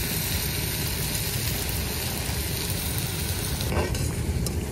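Taro flower fritters fry in hot oil, giving a dense, steady sizzle and crackle that stays loud and close throughout, with no talking.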